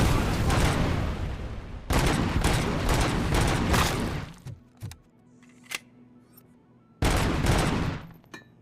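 Loud bursts of rapid gunfire in RoboCop Rogue City, two long volleys broken by a quieter gap with scattered clanks and thuds before a final burst.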